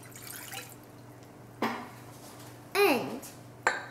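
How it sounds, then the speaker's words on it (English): Water poured into a bowl while making blueberry muffin batter, a few short splashing pours and clinks against the bowl separated by quiet gaps, close by. "first, we'll need to dump the water in."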